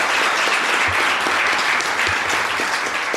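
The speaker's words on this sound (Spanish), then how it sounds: "un aplauso de todos estos participantes" Course participants, real estate students, applauding together indoors in steady, dense clapping that fills the room, loud and close.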